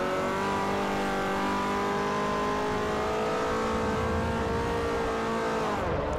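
A car engine revs steadily and loudly in Forza Motorsport 4, holding a high, even drone with rising pitch before it dips briefly near the end, alone with no talk.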